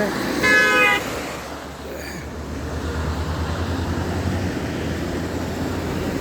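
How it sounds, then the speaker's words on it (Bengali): Road traffic in heavy rain on a slippery street, with a car horn tooting briefly near the start above a steady low engine rumble and rain hiss that carries on to the end. "এই বৃষ্টির ভিতরে গাড়ি ঘোড়া কীভাবে চলতেছে।"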